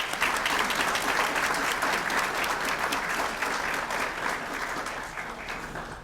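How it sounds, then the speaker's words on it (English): An audience at an awards reception applauds with dense, steady clapping that fills the room and fades slightly toward the end. "Let's give them a hand of applause."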